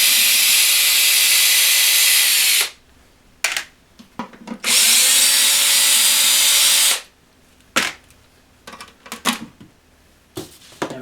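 Powered screwdriver removing four screws from the back panel of a Blackstar HT5 amp, two loud sustained whirring bursts close up, each followed by scattered clicks and knocks of handling.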